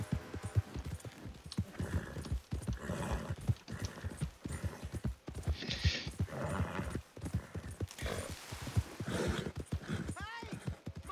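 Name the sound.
horse hooves in video game Red Dead Redemption 2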